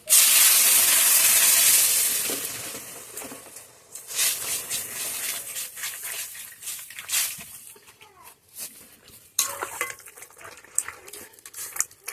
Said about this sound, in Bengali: এবার দিয়ে দেবো মাছের মাথাগুলো সব, আর দিয়ে দেবো জল।